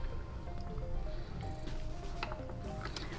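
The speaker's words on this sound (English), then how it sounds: "and stir this up" A collagen protein drink with water is stirred in a glass, giving quiet, steady sloshing and squishy liquid swirls with small clinks and drips for a few seconds.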